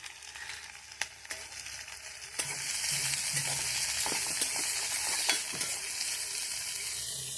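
Onions frying in a pan at an outdoor picnic cookout, a quiet stretch with a few clicks giving way to a steady, close sizzle about a third of the way in, dotted with occasional stirring taps and pops.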